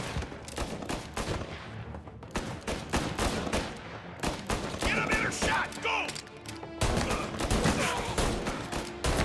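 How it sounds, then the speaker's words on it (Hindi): Rapid gunfire crackles through a firefight in the video game Mafia, dense bursts of shots and machine-gun volleys in quick succession, loud and continuous with little pause. "अबे कितनी गोलियां खाएगा?"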